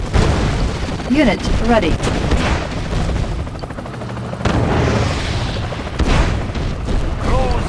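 Naval vessels firing in Red Alert 2, heavy booming explosions and gunfire repeating through the battle, with a unit voice announcing readiness over the din.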